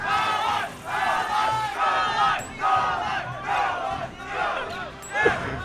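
A tournament crowd at a Super Smash Bros. Brawl crew battle roars in repeated loud surges of yelling and chanting, rising and falling every second or so, with a commentator's voice shouting over the din.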